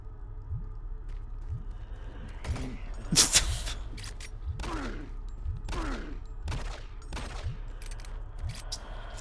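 Doom 3 gunfire cracks out as a string of about eight sharp, separate shots spaced roughly a second apart, one noticeably louder, over a low background rumble.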